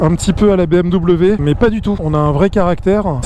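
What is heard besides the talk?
None of the usual background noises is heard.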